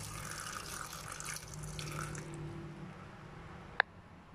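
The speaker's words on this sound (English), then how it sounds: "And I'm going to pour a little bit of water." Water poured into a blender jar holding onions, fresh turmeric, lemongrass, ginger, galangal and garlic: a soft, steady splashing trickle that fades out, ending with a single sharp click near the close.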